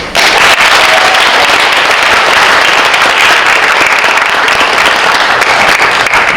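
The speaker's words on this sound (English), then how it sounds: "Keep on clapping the whole way, so it's not silent." Dense, loud audience applause at a senior school awards ceremony, a steady wash of many hands clapping that continues without pause at close range.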